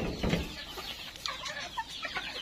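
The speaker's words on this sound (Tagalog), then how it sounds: "marami nagdadagsaan syempre yung mga layer natin" Layer hens, dominant brown crosses near laying age, clucking in a crowded room of a provincial coop; soft scattered clucks and calls of several birds, fairly faint, with no talk.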